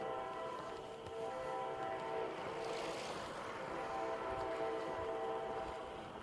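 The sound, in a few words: train passing with horn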